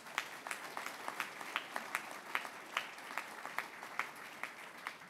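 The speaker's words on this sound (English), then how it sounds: "Let's give them a round of applause." Applause at a Veterans Day breakfast, heard as a faint, distant scatter of claps with an uneven, steady rhythm and no voices.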